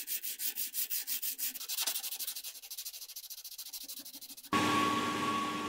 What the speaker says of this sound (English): we can already turn our side to sanding, getting out the scratches and polishing the case.